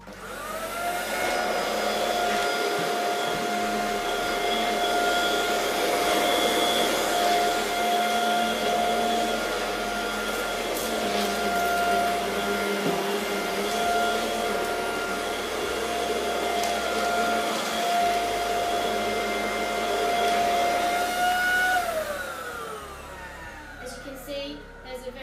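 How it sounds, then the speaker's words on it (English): Panasonic Eco Max MC-UL710 upright vacuum cleaner running steadily at close range with a smooth whining motor tone for over twenty seconds, then winding down at the end. "the vacuum cleaner it's not as noisy as other vacuum cleaners"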